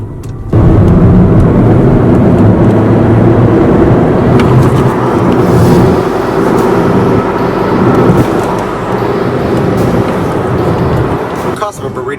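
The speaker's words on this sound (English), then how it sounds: "as we get on the highway here" A turbo car running 93 octane fuel merges onto a highway, its engine and road noise a loud, steady rumble from inside the cabin that holds constant throughout.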